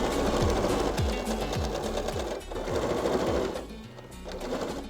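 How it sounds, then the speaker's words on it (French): A sewing machine runs a straight stitch through quilted fabric, a loud steady mechanical whirring with rapid needle thumps that pauses briefly and starts again. "maintenant, on va venir piquer à la machine au point droit à 1 cm du bord"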